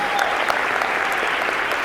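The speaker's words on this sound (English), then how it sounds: "Please give yourselves a round of applause." Large convention hall audience at the San Diego Comic-Con 2019 Avengers: Endgame panel applauds in a loud, continuous, dense roar of clapping that fills the space throughout.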